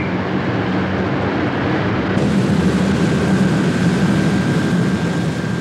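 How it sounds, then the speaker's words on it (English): Mail aircraft landing at East Midlands Airport at night, a steady loud roar of jet engines that holds continuously, with no talk. "Every few minutes, aircraft full of mail touch down"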